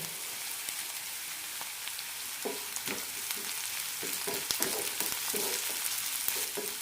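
Curry leaves, slit green chillies and onion fry in a pan for a radish curry, making a constant crackling sizzle broken by a run of rhythmic spoon-scraping strokes in the second half.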